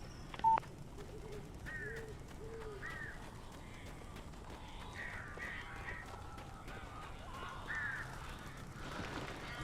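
Crows in the video game Alan Wake Remastered give several rough caws scattered across a quiet, steady ambient hum, moderately distant, with a short sharp beep at the start.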